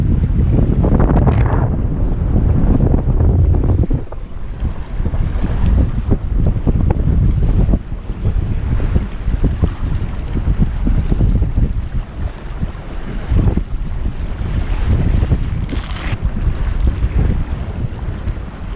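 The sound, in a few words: sailboat sailing upwind with wind and waves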